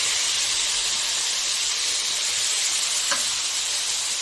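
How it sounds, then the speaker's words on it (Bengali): Spice paste of tomato, green chilli, onion and garlic frying in a pan, a steady close sizzling hiss throughout with a brief stirring scrape near the end, no talk. "বাটা মশলাটা টমেটো কাঁচা লঙ্কা পেঁয়াজ আর একটু রসুন"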